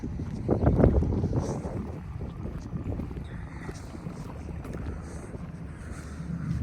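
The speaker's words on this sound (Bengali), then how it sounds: "কলো কলো ছলো ছলো আওয়াজ হচ্ছে আর বাতাস বইছে" Wind blowing steadily at a riverbank, with gentle water lapping against the shore; a broad, continuous rush with buffeting gusts on the microphone, loudest near the start, and no talking.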